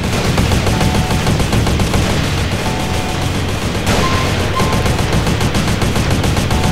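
Shotgun gunfire in the video game GTA San Andreas, in a SWAT versus army deathmatch mod, sounds as dense, continuous loud shooting and blasts that fill the whole stretch without pause.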